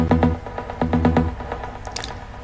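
A single oscillator of a Spire trance pluck synth sounds alone in short, rhythmic plucked notes that decay quickly, followed by a few brighter high blips, moderately loud and close.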